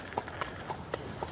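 A horse's hooves clop on hard ground early in the morning at a 1,000-year-old royal castle. Five separate, fairly sharp hoof strikes land at an uneven walking pace, moderately close, with no talking.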